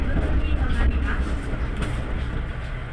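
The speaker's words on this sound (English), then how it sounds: "The train continues on the Yamaguchi line towards its next stop, Jifuku." A tourist train running on the Yamaguchi line in Japan toward Jifuku gives a steady, fairly loud low rumble of wheels and carriage throughout, with no distinct clatter standing out.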